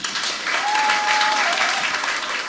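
An audience claps to welcome a speaker at a talk, a full, steady round of applause close by that swells slightly in the middle, with a faint tone running briefly beneath it.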